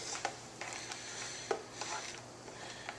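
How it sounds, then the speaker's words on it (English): A spoon stirs green juice inside a glass mason jar, giving a series of light, sharp clinks and taps at irregular intervals, close and fairly quiet, with no talking. "I like to stir it up with a spoon, because the pulp kind of gathers at the top"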